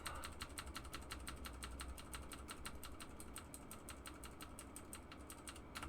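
Fast, steady clicking of keys on a computer keyboard, close and fairly quiet, with rapid evenly spaced keystrokes over a faint background hum.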